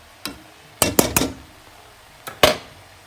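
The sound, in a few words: stirring flour, miso and tomato puree into a pot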